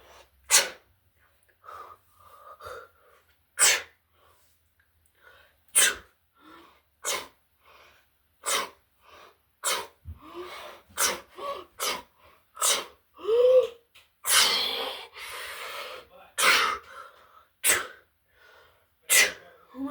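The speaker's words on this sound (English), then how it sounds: "Oh my God, guys, I keep sneezing." Repeated sharp sneezes burst out one after another, about a dozen close and loud over a stretch of heavy breathing and gasps, with some sneezes coming in quick clusters.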